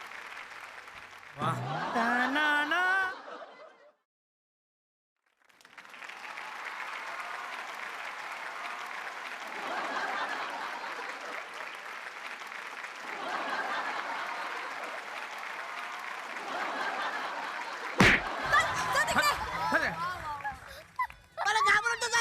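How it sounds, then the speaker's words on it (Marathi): Loud audience applause on a Marathi comedy stage show, with bursts of clapping and crowd noise rolling through most of the stretch, broken by a short silence and mixed with voices talking over it. "वा जोरदार टाळ्या"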